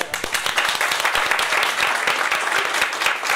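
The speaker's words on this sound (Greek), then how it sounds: "χειροκρότημα στην κυρία Ιωάννου." An audience at a book presentation in a bookstore gives warm, sustained applause for author Ioulia Ioannou, dense clapping that holds steady and close throughout.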